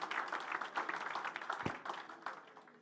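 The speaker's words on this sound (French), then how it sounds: "vous demander également d'applaudir son président et l'organisation qu'il représente" An audience at a maritime partners' event claps for a president and his fishing-industry organisation, a fairly faint but steady patter of many hands, continuous and slowly thinning toward the end.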